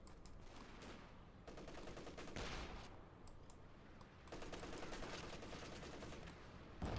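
Light infantry rifle and machine-gun fire crackles in Company of Heroes 2, a dense, continuous stream of rapid shots rising and falling in intensity across a noisy wartime battlefield, with no voices.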